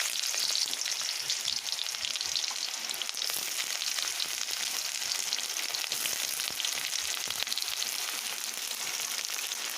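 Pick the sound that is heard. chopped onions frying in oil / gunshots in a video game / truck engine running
chopped onions frying in oil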